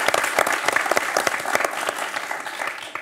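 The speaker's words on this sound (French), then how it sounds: "On peut les applaudir, les nuls, hein." A studio audience on a French quiz show applauds steadily for about three seconds, dense clapping fairly close and loud, fading slightly toward the end.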